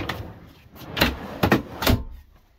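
A deep storage drawer in a 2021 Nissan NV2500 van camper conversion, foot-released, slides out to full extension with a few distinct close clunks and rolling runs, fairly loud and free of talk.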